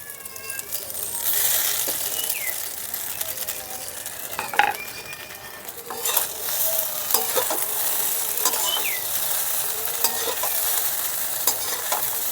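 Maggi noodles tossed with vegetables and fried egg pieces crackle and sizzle steadily in a hot pan, with repeated scraping clinks from a spatula against the metal and a few sharper knocks, close up and without voices.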